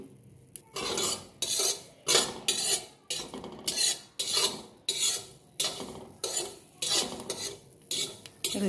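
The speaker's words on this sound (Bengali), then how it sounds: "শুকনো খোলা এই কালো জিরেগুলো ভেজে নিতে হবে" Black cumin seeds dry-roasting in a hot wok with no oil, stirred in steady repeated scrapes about every half second, the utensil rasping against the metal with a faint crackle underneath, close and alone with no voices.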